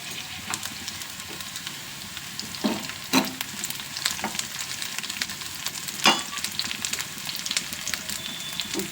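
Green chillies sizzle in spiced mutton sukka masala in a hot pan. A steady, close frying hiss runs throughout, broken by occasional sharp spatters and the scrape of stirring.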